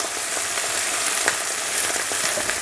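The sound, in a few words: reserved egg bits frying in chicken fried rice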